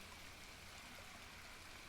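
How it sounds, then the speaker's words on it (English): A forest river spilling over small waterfalls gives a soft, steady, continuous rush of water, faint and even throughout with no voices. "The river occasionally tumbles over small waterfalls, creating a soft, cascading sound."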